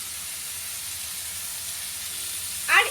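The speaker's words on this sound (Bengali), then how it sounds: "তারপর আবারও একটু নেড়ে এটা ভাজতে হবে।" Potato and papaya pieces frying in a pan with salt and turmeric give a steady, soft hiss throughout, with a brief louder sizzle burst near the end.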